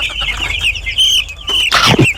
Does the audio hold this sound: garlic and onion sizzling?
no